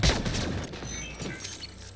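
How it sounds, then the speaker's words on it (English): A sniper rifle shot from the Mass Effect: Andromeda video game: one hard, booming crack right at the start, followed by a steady bed of background combat noise. "He's sniping."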